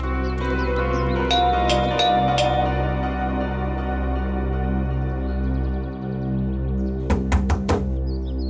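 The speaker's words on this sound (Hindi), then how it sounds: "कोई दरवाजा क्यों नहीं खोल रहा?" Knocking on a house door, a few knocks early on and then a quick cluster of sharp raps near the end, heard over a steady low background hum.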